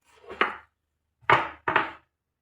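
Three crisp knife chops cut through garlic on a board in a quiet kitchen, one single stroke followed after a pause by two quick strikes in succession, each close and distinct.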